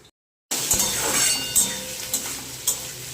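Onion and chili hit hot oil in a wok, and after a brief silence a loud, crackling sizzle bursts out. A few sharp clinks and scrapes of a spatula against the metal follow over the frying.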